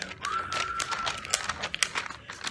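A sheet of paper is shaken back and forth to imitate a windstorm, giving a continuous rustling, crinkling flutter with sharper crackly snaps partway through, close and fairly loud throughout.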